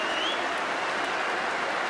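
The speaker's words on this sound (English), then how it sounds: "Standing up and applauding on a Saturday in Lord's Ground" A crowd at Lord's cricket ground stands and applauds Joe Root's innings of 180 against India on a Saturday. The clapping is a steady, dense wash of many hands that holds at an even level from start to finish.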